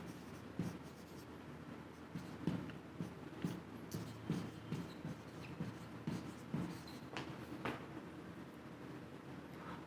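Pen or marker writing steadily during a math lecture on set unions, a run of rhythmic scratchy strokes with short pauses, close but faint, no talking.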